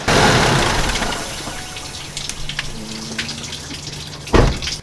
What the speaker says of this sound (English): I'm gonna keep the water flowing 5 minutes